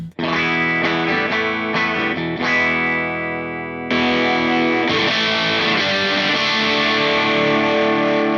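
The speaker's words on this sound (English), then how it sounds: "It's an overdrive currently. That sounds like this." Electric guitar through an overdrive pedal, thick overdriven tone, sustained chords and riffs ringing loud and continuous, slightly gritty and saturated.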